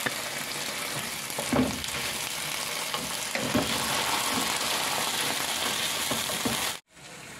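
Tomato frying in a pan with a steady, close sizzle that runs on throughout, with occasional stirring knocks, cutting off briefly near the end.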